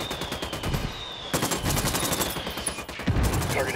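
Bursts of automatic gunfire in the open-world shooter Ghost Recon Wildlands, rapid cracking rounds from several weapons, loud and close, with brief lulls between volleys.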